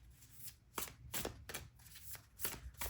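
A deck of tarot cards is shuffled and a card is drawn, heard as soft, close riffling and slapping bursts in a steady rhythm. The sound is quiet and unaccompanied by speech.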